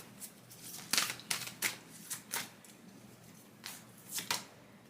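Tarot cards shuffled and handled during a reading, giving a string of quick, crisp riffling bursts and flicks at an irregular pace, close-up and with no speech over them.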